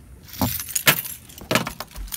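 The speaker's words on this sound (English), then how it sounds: "I gotta get the keys. I dropped them." Keys jangle and clatter in a few quick metallic bursts as they drop, loud and close, with no talking.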